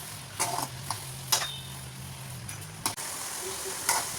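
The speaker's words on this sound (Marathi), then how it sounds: "साखर आणि गाजरचा हलवा मस्तपैकी परतून घ्यायचा आहे।" Carrot halwa with sugar being stir-fried in a pan, a steady soft sizzle with a few scattered spoon scrapes and taps, close and moderately quiet, no talking.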